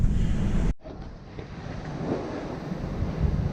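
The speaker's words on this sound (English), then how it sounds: "I don't know where this wind came from." Wind blowing while sailing near an island by a fjord, a steady roar of rushing air over the microphone and the water that drops sharply for a moment, then builds back up.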